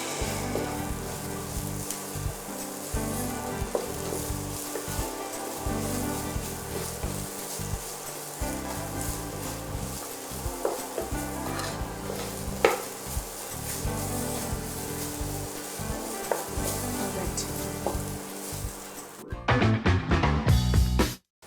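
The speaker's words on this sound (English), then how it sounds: "being stir fried with just bare minimal oil" Beans stir-fry in barely any oil over a medium flame, giving a steady fine crackling sizzle punctuated by occasional soft clicks of stirring, close and constant until it shifts abruptly near the end.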